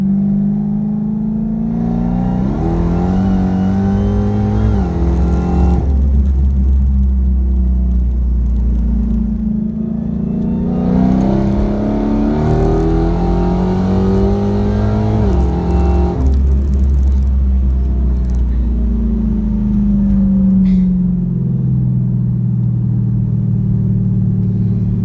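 A Dodge Charger Hellcat sedan accelerates hard in repeated full-throttle pulls, its deep engine roar climbing through gears with a rising supercharger whine, loud and close throughout.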